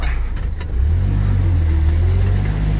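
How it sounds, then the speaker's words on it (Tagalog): A car engine labors at steady high load on a steep, rough, muddy mountain road in North Cotabato, a loud continuous low drone that swells slightly as it strains, with no talking. "Nahirapan na ang sasakyan namin dito"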